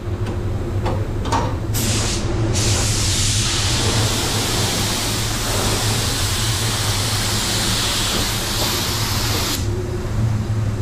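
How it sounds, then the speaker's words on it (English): A paint spray gun laying a second coat, a steady loud hiss of spraying that runs almost unbroken for around eight seconds over a constant low hum, with brief bursts and pauses at the start. "just pay attention on how I spray it"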